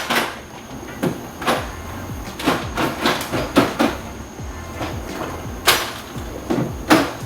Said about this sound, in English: But here goes putting the last drawer in,